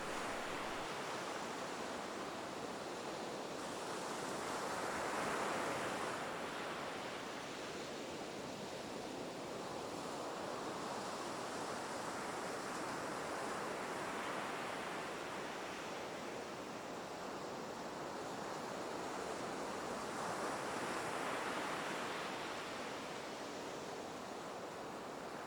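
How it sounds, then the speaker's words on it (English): Ocean waves wash steadily onto the shore in slow, rolling swells, a soft continuous surf that rises and falls in gentle surges with no voices. "Let the sounds of the waves help calm you"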